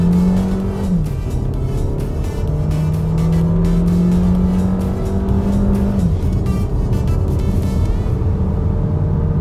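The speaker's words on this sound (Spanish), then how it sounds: "Ahora voy a comprobar la aceleración." Audi Q3 Sportback with a 1.4 turbo engine accelerating hard in Dynamic mode, a loud rising engine roar interrupted by two upshifts with brief dips, climbing again each time before easing off at the end.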